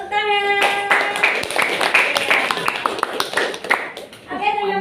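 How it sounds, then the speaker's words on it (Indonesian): A classroom group claps hands in a short burst of scattered, close claps lasting a few seconds, framed by a person talking before and after. "Tepuk tangan."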